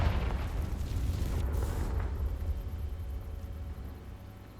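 A Confringo fire spell bursts in Hogwarts Legacy with a loud rumbling explosion that swells early, then rolls off into a long, fading low roar.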